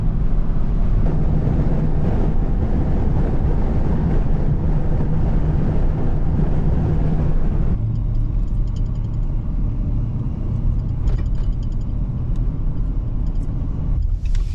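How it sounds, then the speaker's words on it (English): Strong wind off a lake roars and buffets steadily across the microphone, a dense, low rumble that continues throughout with little change. "You know how windy the lake is."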